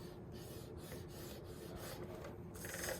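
A scoring tool drags along paper at half-inch marks, making a soft, continuous raspy scraping that is close and faint, with no voices.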